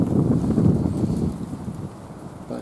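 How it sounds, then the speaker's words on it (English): Gusty outdoor wind buffets the microphone with a steady low rumble that eases off toward the end, with no speech over it. "it's a little windy out today"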